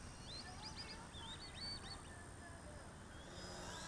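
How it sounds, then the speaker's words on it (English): Peking or Muscovy ducks squabble faintly at a distance, a few short bursts of honking calls over a steady low background rumble. "Peking or Muscovy ducks irritating each other"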